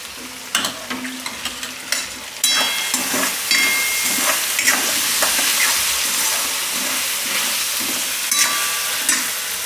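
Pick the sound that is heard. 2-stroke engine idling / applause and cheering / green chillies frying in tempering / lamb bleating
green chillies frying in tempering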